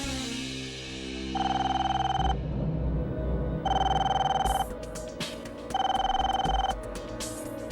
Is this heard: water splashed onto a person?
no